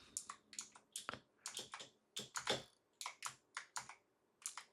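Keys on a computer keyboard are pressed to play a platformer game, heard as clusters of quick clicky taps in an irregular rhythm. They are close and fairly quiet, with no voices.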